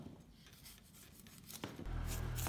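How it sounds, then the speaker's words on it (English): A knife scraping and cutting the scaly skin from a dragon fruit, a soft close-up rasping that builds into a denser, louder scrape toward the end. "Cut off the scales."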